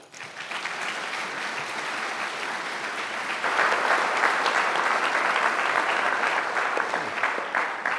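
An audience at a 2018 campus free speech conversation applauds as a speaker is welcomed, sustained, dense clapping throughout that swells louder midway and carries on without any talking.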